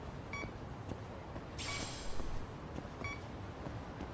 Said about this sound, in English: So it always beeps once, but you just have to look out for the cue.